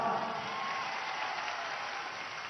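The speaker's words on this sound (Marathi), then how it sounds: "त्यांच्यासाठी एकदा टाळ्या आवाजा।" A large crowd at a Maratha rally in Maharashtra applauding, with a dense wash of clapping that slowly fades, heard from a distance and steady.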